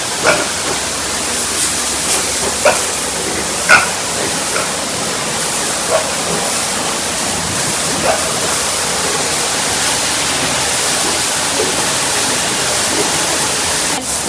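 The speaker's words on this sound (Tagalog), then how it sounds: "pwede naman bumili na lang po kayo ng power spray" A pressure washer sprays water while cleaning a farm, a continuous loud broadband hiss that runs steadily throughout, with a few faint brief knocks over it.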